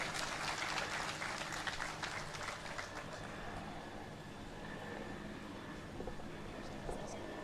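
An audience at an outdoor groundbreaking ceremony in Gaziemir Sarnıç applauds as Mayor Dr. Cemil Tugay is welcomed on stage. The clapping starts strong, then thins and fades, with a voice over it.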